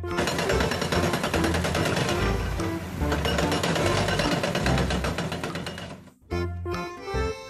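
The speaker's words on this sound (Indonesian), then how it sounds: "mobil truk pahat beton" A toy concrete chisel truck gives a rapid, loud mechanical hammering rattle that runs steadily for about six seconds, cuts out briefly, then starts again.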